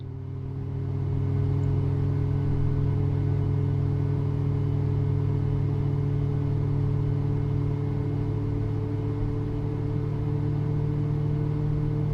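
Boeing 737 MAX 8 engines in Microsoft Flight Simulator 2024, a steady droning hum with strong low tones and a constant whine that rises at the start and then holds evenly, with no talk.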